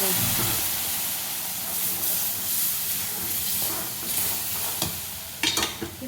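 Sugar syrup poured into wheat flour roasting in ghee for sheera, a strong steady hiss and sizzle with stirring that runs throughout and ends in a few sharp spoon knocks.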